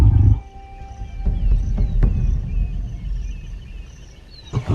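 A lioness lets out a hostile warning at a group of large lions, a deep roar that bursts loudly at the start, followed by lower rumbling growls and a final short snarl, near and alone.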